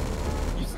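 Gunfire in the video game GTA 5 during a role-play shootout, a dense, loud burst of rapid shots filling the whole short moment with no pauses.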